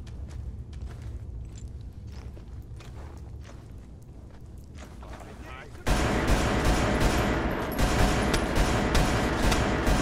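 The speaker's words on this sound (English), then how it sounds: "Dude, I'm literally shooting right at you." Gunfire in the Fallout Anomaly game, with scattered shots and footsteps at first, then a sudden loud burst of sustained rapid firing that fills the second half.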